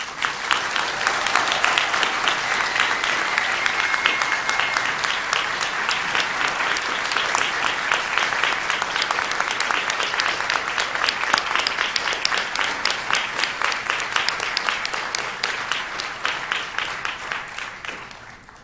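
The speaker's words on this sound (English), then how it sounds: "So please join me in a big round of applause for Professor Gusty." A large audience at a university commencement ceremony applauds Professor Gusty with sustained, dense clapping lasting nearly twenty seconds, steady and loud before tapering off at the end.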